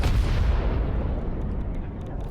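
A nuclear explosion in the video game Satisfactory goes off as a loud, sustained low rumbling roar that fills the whole stretch, heaviest at the start and slowly thinning, with no talk over it.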